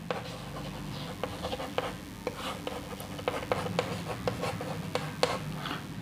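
Writing on a board during a chemistry lesson, a close run of scratchy strokes and light taps in an irregular rhythm, fairly quiet with no talking.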